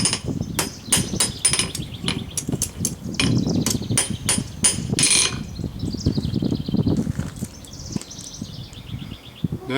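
Hot steel flat bar being forged and bent into a 90-degree square corner, a loud series of sharp metallic hammer strikes and clanks followed by scraping, ringing metal handling and softer knocks close by.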